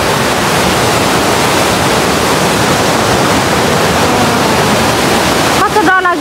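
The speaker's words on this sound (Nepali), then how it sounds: "साथीहरू यो चाहिँ तम्मर नदी है तम्मर नदी चाहिँ यस्तो छ" The Tamor river in Nepal rushes past in a loud, continuous broadband roar of flowing water with no breaks, and a faint voice appears near the end.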